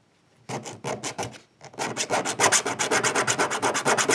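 A metal file rasps back and forth against the body of a Guard Security padlock, close and fairly loud, a few strokes, a short pause, then a faster run of rhythmic scraping strokes.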